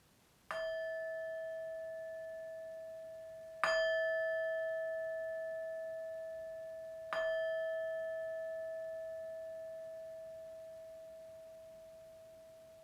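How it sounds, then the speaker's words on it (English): Three clear meditation bell strikes spaced a few seconds apart, each ringing out with a long, pure, sustained tone that slowly fades in the quiet. "as I ring the bell now"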